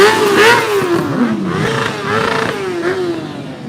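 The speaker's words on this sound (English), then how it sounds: "So they put their motorcycles right next to the TV and they're making noise because they're upset" Motorcycles parked beside a TV rev their engines in a loud, close, wavering drone, with pitch rising and falling through overlapping throttle blips.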